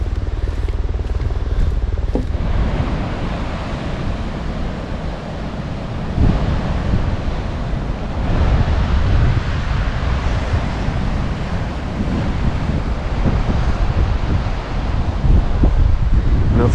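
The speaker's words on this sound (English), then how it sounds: "This is our own private beach." Steady surf and wind wash over a private stretch of beach at Hanna Park in Jacksonville, Florida, a continuous broadband roar with gusty microphone buffeting and no speech.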